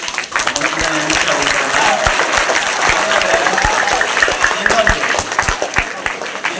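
Warm applause from an audience at a school lecture given by a Swamiji fills the clip with crisp claps, while a speaking voice carries on over it.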